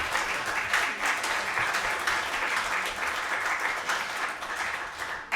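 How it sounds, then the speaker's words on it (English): An audience at an international guitar festival applauds guitarist Mark Barnwell, a dense, sustained wash of clapping that stays loud from start to finish. "Big round of applause, please, for Mark Barnwell."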